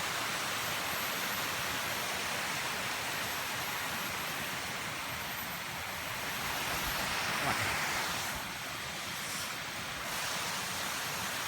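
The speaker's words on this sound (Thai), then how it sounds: "น้ำจากน้ำตกเนี่ยครับ" A waterfall rushes steadily through a durian orchard, its broad hissing roar constant and fairly soft, with no voices.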